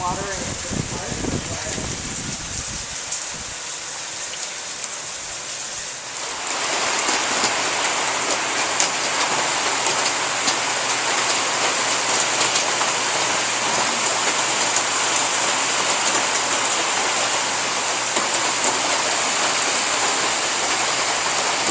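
Steady rain in southern California after an hour and a half of downpour, pouring continuously and evenly near a garage workbench and car. A voice speaks over the start before the hiss of the rain settles into an unbroken roar.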